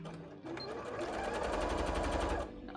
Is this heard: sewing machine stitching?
yes